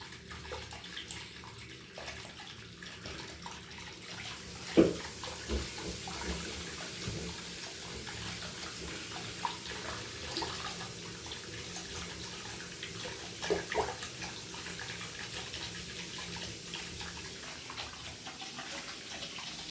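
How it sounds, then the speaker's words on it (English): A bathtub fills with steady running water for a cherry bath bomb, a continuous broad rush with a few brief knocks and splashes throughout. "I've got a cherry bath bomb which I got from Home Bargains, which I'm just going to place that into the bathtub now"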